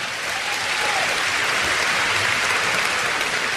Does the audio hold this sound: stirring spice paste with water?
no